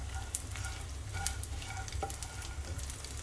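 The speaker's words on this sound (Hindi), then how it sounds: "इसी तरह से आपको गोंद को फ्राई कर लेना है जब तक ये अच्छे से फूल जाए।" Edible gum (gond) frying in hot ghee, giving a continuous soft sizzle with crackles and faint stirring, fairly quiet and steady.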